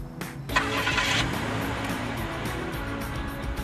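A car engine starts and settles into a steady running rumble, close and moderately loud, with no talk over it.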